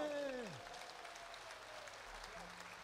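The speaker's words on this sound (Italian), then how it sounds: "Applauso!" Audience applause at an outdoor summer festival concert in Vasto, a broad steady wash of clapping that follows a sustained held tone fading out, with faint voices and a low hum beneath.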